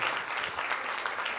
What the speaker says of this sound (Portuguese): Aplausos do mestre.